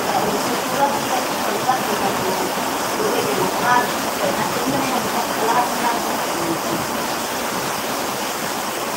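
Heavy rain pours outdoors in a steady, even broadband roar with no break, while voices murmur faintly underneath.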